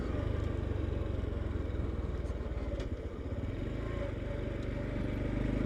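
A Honda Trail 125 motorcycle engine runs steadily nearby, a continuous low mechanical drone with a faint rattle and no break in the loudness.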